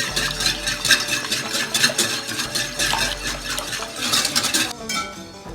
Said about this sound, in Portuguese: Vamos mexer bem o fermento com o leite e com o óleo.